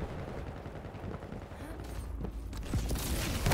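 Rocket fire and explosions in a 125 FPS arena shooter cup match, a few quiet close blasts and thuds amid game noise, building toward the end.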